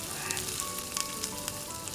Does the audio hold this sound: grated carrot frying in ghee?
yes